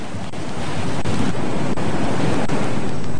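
High waves batter the south sea coast of Indonesia in bad weather, a dense, continuous roar of surf mixed with wind buffeting the microphone, with no speech.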